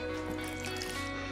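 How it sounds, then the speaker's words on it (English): Half a cup of water poured into a mixing bowl for spring roll dough, a steady close trickle with a faint hum underneath and no talking. "we'll add water"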